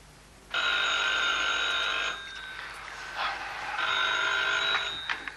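An old telephone rings in two long electric bursts separated by a short pause, bright and insistent in a quiet interior, with no talk over it.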